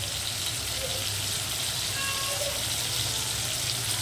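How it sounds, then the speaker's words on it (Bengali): Prawns frying with elephant foot yam stalks in a pan, a steady broadband sizzle that stays constant and fairly close, with no clear voice over it. "এটাকে আমি আর একটু হালকা করে ভাজবো।"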